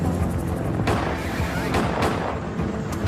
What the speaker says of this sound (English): As the first agents approach, gunfire erupts.